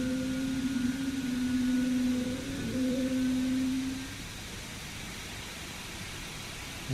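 An Airbus A321neo engine whines during taxi in a flight simulator, a steady tonal hum with a wavering pitch that fades out midway and leaves a low airy background, no talk.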